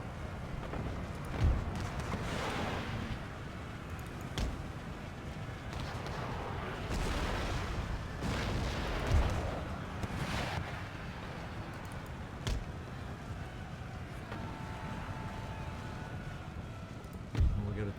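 Incoming mortar fire in Empire Total War with Darthmod thuds as scattered dull booms over a dense rumble of battle noise, spaced every few seconds, with a voice talking throughout.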